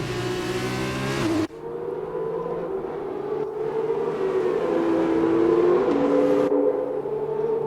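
F1 race car engine in a 2020 Abu Dhabi sprint race video game, a high whining engine tone shifting gear and holding a steady sustained pitch as the car accelerates, continuous and loud with no talk.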